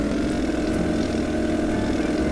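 Propeller plane engine from the Minetest plane mod video game starting up and running, a steady droning hum with a low rumble, close and continuous with no talk over it.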